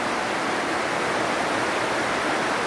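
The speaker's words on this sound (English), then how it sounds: "If you hear rain, it is raining outside." Heavy rain pours steadily outside in Portland, a dense, continuous hiss of falling water that stays loud and even throughout with no voices.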